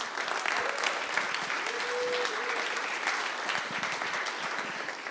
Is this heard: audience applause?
yes